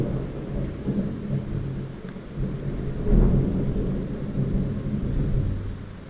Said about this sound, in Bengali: বাহিরে আকাশ ডাকতেছে, অনেক বৃষ্টি হচ্ছে আমাদের এখানে।